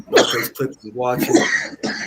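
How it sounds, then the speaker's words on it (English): Someone with a sore, troubled throat gives a brief cough close to the microphone, mixed in with their own talking. "No, it's just like I got a cough"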